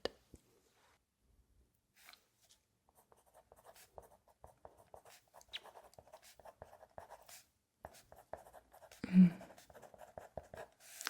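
Pen nib scratching across paper in quiet, intermittent strokes, soft and close, with short pauses between bursts of writing and a few light clicks.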